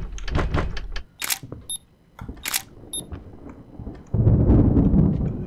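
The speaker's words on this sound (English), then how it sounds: "now we have thunder." Thunder rumbles low and broad through the last second and a half, loud and sustained, following a run of sharp clicks and brief high beeps, with no talk.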